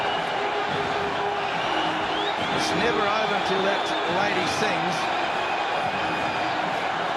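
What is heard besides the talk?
cricket crowd cheering in Barbados, West Indies beating Australia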